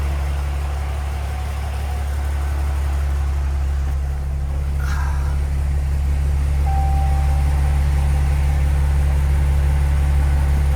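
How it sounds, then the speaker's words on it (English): Truck engine swapped to a 4.8 V8, paired with an Aisin transmission, idling close by with a steady low rumble throughout and one brief clunk partway through, no talk. "You can jump to starter. She fires right up."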